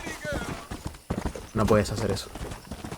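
Horse hooves clip-clop steadily in the video game Red Dead Redemption as riders pass along a trail, the rhythmic hoofbeats running under a man's continuous speech.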